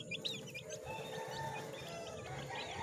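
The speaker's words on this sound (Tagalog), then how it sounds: "Ayan ang ating mga sisiw." A mother hen with her chicks outdoors, giving soft clucks while the chicks chirp faintly and continuously over a steady rustle, with no talk.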